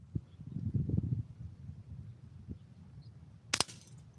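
A Daisy 880 pump air rifle fires once after five pumps: a single sharp, bright crack near the end, preceded by quiet low rustling and handling noise.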